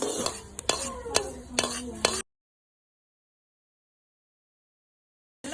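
White sesame seeds dry roasting in a pan, with scraping stirs and faint crackles for about two seconds before the sound cuts out to silence.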